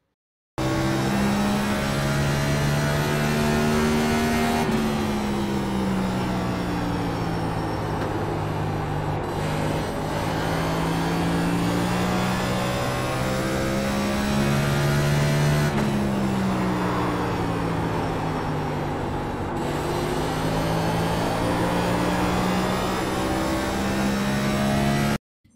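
A race car engine in the iRacing sim at Richmond holds a loud, steady drone through a lap, its pitch rising and falling smoothly as it shifts and comes off and back on the throttle, heard alone without talk.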